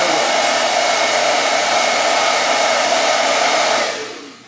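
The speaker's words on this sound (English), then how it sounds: "Take my blow dryer." A handheld blow dryer runs close and loud while drying lace spray on a wig, a steady whooshing whir that holds constant and then is switched off and fades near the end.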